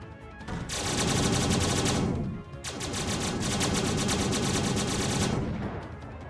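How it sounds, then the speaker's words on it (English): Aircraft guns and torpedoes firing in the Xenonauts video game during a dogfight, two long, loud rapid-fire bursts of automatic gunfire with a brief pause between them. "bring the weapons to bear. Torpedoes away."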